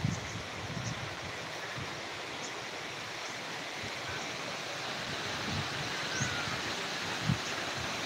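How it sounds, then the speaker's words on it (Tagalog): Strong typhoon wind sweeps through garden plants such as wing beans, a steady, loud broadband rush of air and rustling leaves with a few soft thumps and gusts, no voices. "Lakas ang hangin, no?"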